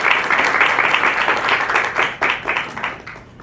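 A room of lunch guests at a law firm's charities gathering claps steadily, the applause tapering off into scattered claps by the close.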